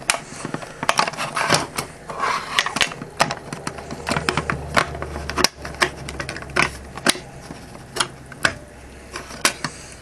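A fourth-generation Nerf Dart Tag pistol's plastic shell is pried apart by hand, producing a quick series of sharp, close plastic clicks and snaps with short pauses between them and no talking.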